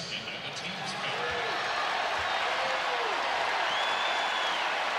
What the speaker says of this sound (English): a mock cheer after the foul was called against Georgia